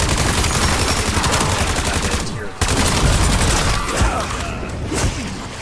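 AK assault rifle fire in a Call of Duty zombies match: loud, rapid automatic bursts run almost without a break, with one short pause midway and heavy booming impacts.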